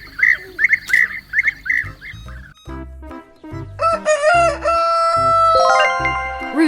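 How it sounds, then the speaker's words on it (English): Rooster crowing loudly and close by with a long, drawn-out, wavering cock-a-doodle-doo after a few brief chirping calls and short clucking sounds. "Rooster."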